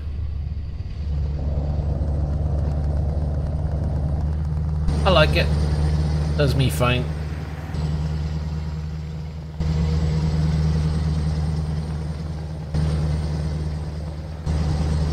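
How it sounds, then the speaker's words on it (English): A Scania T series truck with a modded V8 engine sound in Euro Truck Simulator 2 rumbles steadily at a low, droning idle-to-cruise pitch, with a brief sharp hiss partway through and someone speaking over it. "It's just the Scania T series mod with a modded engine sound."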